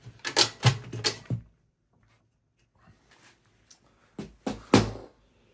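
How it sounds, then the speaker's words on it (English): Plastic front cover of an HP EliteDesk 800 desktop PC is pried off, giving a few sharp clicks and snaps in two clusters separated by a quiet pause. "I will remove the front cover plastic"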